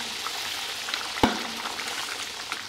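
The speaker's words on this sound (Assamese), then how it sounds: "ইয়াতে মই নিয়াকে মাছ দি দিম" A pan of bubbling curry sizzles and fries steadily up close as fish pieces go in, with one sharp clunk partway through.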